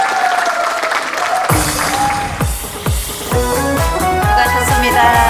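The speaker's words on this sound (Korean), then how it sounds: "박수로 환영해 주시기 바랍니다" Audience applause at a fan-appreciation healing concert in the Hollywood Theater at Nakwon Arcade, welcoming a singer, fills the opening alone; a band then comes in with a steady drumbeat and bass while the clapping continues beneath the music.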